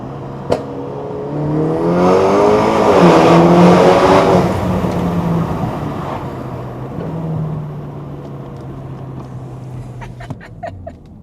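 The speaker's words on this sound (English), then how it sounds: "with the upgrades the car will sound a lot better" Upgraded stage 3 BMW G20 330e hybrid sedan driving through a tunnel, its engine note swelling loud and reverberant as it accelerates, then settling into a steady cruising drone with a few sharp pops near the end.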